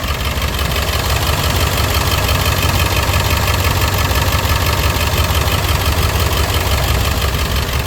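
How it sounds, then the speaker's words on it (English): A 2000 International 4700 semi-tractor with a T444e diesel, warmed up after long sitting, idles close by with a dense, clattering, steady rumble that never changes. "The motor's been running for like 45 minutes."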